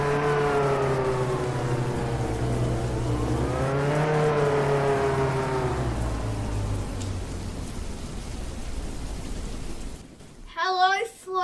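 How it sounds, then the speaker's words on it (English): A car in the Roblox game Jailbreak revs hard, its whining engine tone climbing, dipping and climbing again before falling away into a noisy rush, with a brief sharp burst at the end. "This car's going faster than it is supposed to."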